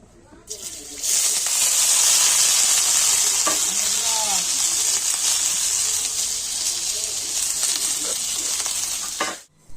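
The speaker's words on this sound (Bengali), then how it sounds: "আমি এখন আলুটা ভেজে নিচ্ছি" Potatoes frying in a pan give off a loud, close, continuous sizzle that starts abruptly and holds steady for several seconds, with a few faint stirring clinks, before cutting off sharply.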